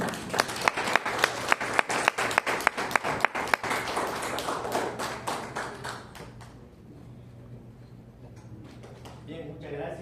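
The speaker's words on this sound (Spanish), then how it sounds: "Démosle un fuerte aplauso" An audience breaks into applause for a neuroscience speaker at an education and human rights conference, dense rhythmic clapping that thins and fades after about six seconds into quieter room sound.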